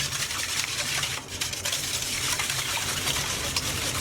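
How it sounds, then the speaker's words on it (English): Eggs, milk and sugar are whisked briskly in a bowl, giving a continuous close, hissing and splashing swish for a few seconds with no pause. "all we're going to do is just whisk this"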